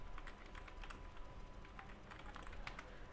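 Steady typing on a computer keyboard while entering a meeting title in Outlook: a quick run of light, close key taps in an uneven rhythm, continuing throughout at low level without speech.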